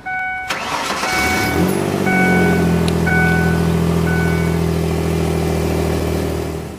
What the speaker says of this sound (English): Now we're going to start the engine on my truck, which is the good battery, and let it run for 2 minutes.